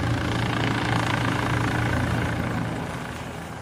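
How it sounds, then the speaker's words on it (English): A heavy, low mechanical drone hums steadily from helicopters flying nearby at the Ryder Cup golf tournament, fading slightly toward the end. "That and Blade helicopters."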